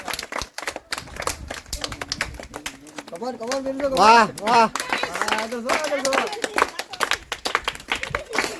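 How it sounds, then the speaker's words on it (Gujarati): Scattered hand claps during a village Mamrana ladoo eating contest, ringing out under loud, excited cheering voices from a close crowd. "ફૂલ તાળીઓ પડે એકવાર"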